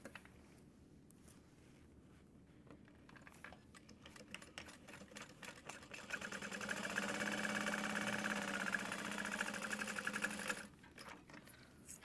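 A sewing machine stitches a medium-sized tote bag, starting with light scattered clicks and then running in one steady, fairly loud whirring burst of about four seconds before stopping, with no talking.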